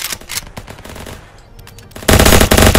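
Machine gun fire in the battle game Ancient Warfare 3, set in a World War II Normandy landing: scattered bursts early on, then a loud, dense, sustained volley of rapid automatic shots in the final second.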